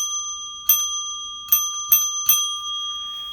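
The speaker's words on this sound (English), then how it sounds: "That forces me to bring out my bell." A small hand-held coffee bell rings four times, one strike followed by a quick run of three, each clear metallic ding sustaining under a steady ringing tone.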